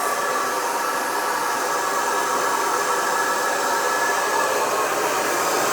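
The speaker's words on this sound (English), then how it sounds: "This is my beauty school blow dryer." A blow dryer runs steadily, a loud, constant rushing whoosh of air without pauses or talking.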